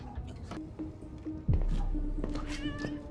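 A cat meows in the animated series Arcane, short cries heard against ambient scene noise and a sudden low thump partway through.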